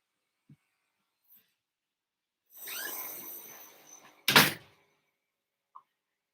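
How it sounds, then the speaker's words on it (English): A door is pushed shut nearby in a quiet room: a brief scraping swing, then one sharp, loud thud as it closes, followed by near silence. "I'm going to close the door."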